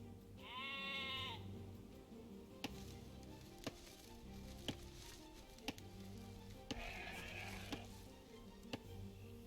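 A single sheep bleats loudly near the start in Age of Empires II, then a steady run of sharp, evenly spaced clicks or chops sounds over a low, constant game ambience.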